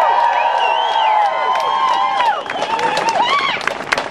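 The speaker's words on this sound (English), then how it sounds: "How about a cheer for Harvey Milk?" An outdoor march crowd cheers and whoops loudly, voices overlapping in a sustained roar that swells and breaks into scattered shouts.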